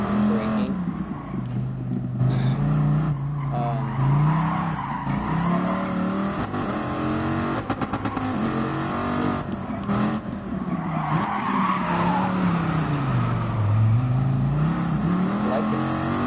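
Viper M1 race car under hard braking and revving, its engine note swooping up and down loudly and continuously while tires squeal and skid throughout, no talk.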